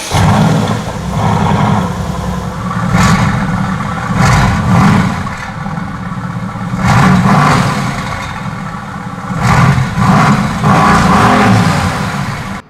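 A V8 sports car engine revs repeatedly, rising and falling in several bursts between steady idling, loud and close, with a deep rumbling exhaust.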